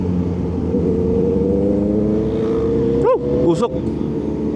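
Kawasaki ZH2 motorcycle cruising on a road during a group ride, a steady engine hum with a rising rev sweep, then a brief sharp throttle blip near the end, heard under someone talking.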